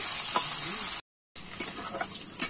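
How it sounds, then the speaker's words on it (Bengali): Onion and green chilli fry in a pan with a loud, close, steady sizzle and light stirring scrapes, broken by a brief silent gap. "এবার ভালো করে আমি কিন্তু পেঁয়াজ আর কাঁচা লঙ্কাটা একটু ভেজে নেব"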